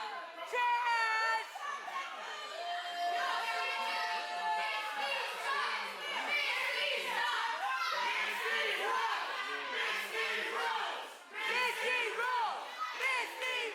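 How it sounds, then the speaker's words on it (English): A capacity crowd packs a burger joint for an independent wrestling show, with high excited voices, shouts and chatter rising and falling continuously, loud and close, with cheering swells throughout. "Capacity crowd here at Big Z's Burger Joint."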